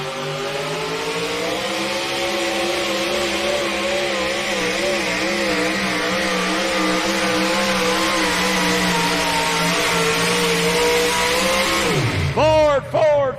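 Ford drag racing car with a big mountain-motor engine accelerating down the strip at a night finals event: a long, loud, sustained roar with rising harmonic tone, fading into distant whine near the end, with an announcer's voice in the background.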